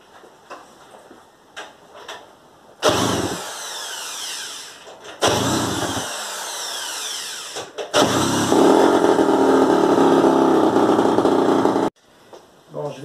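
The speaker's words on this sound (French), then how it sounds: "On va essayer avec la perceuse." A power drill whirs in loud bursts against a moped engine, three long spinning stretches separated by pauses, close and harsh.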